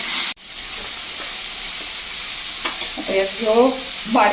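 Onion, tomato and green chilli frying in a kadai for kadai paneer make a steady, close hiss and sizzle after a brief cut at the start, with some faint background sounds toward the end.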